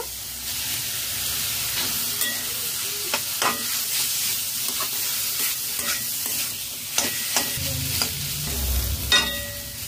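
Grated potato sizzles in a pan with cumin and dry chili, a steady close frying hiss broken by repeated scraping stirs of a spatula, with no talking.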